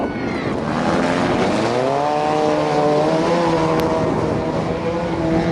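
Four-cylinder race cars launching into a heat on an oval track at a county fair, engines roaring loud and near, pitch sweeping upward together as they accelerate away, a dense continuous howl with no talk.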